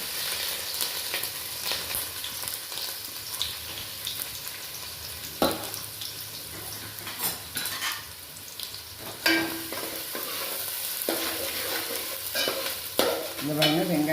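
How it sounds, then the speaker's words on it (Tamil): Chopped onions, added after fresh ginger, fry and get stirred in a pan for vegetable fried rice: a continuous close sizzle broken by repeated scraping stir strokes, with no talking. "வெங்காயம் நல்லா வதங்கிட்டு"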